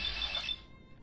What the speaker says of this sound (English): where's that beeping?